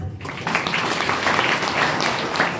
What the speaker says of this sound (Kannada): ಅವರಿಗೆ ಚಪ್ಪಾಳೆ ಹೊಡ್ರಿ